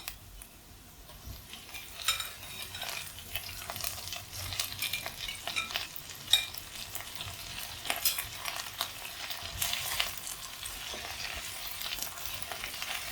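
Cauliflower and potatoes stir-frying in a pan, with a steady sizzle and repeated scraping stirs of a utensil against the pan, alone and fairly close.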